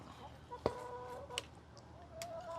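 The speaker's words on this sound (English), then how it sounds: "This is my chicken coop." Chickens in a backyard coop give a few soft, scattered clucks and short calls. The sound is faint and somewhat distant over a low background hiss.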